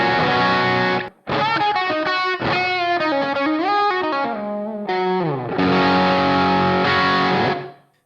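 An electric guitar is played through a screamer drive effect on an HX Stomp, giving distorted chords and sliding lead lines that ring loud and continuous with one short break near the start.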